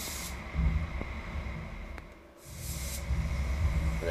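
A paint spray gun hisses steadily while laying a second Titan Silver top coat onto a BMW 320i fender, two sustained bursts separated by a brief pause, close and alone.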